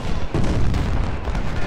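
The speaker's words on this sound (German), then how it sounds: "Hier, Hansen, kümmere dich mal um die Kanonen, die nerven" Cannon artillery fire in the Civil War strategy game Ultimate General: Civil War booms steadily as a dense, continuous rumble of distant volleys with no clear pauses.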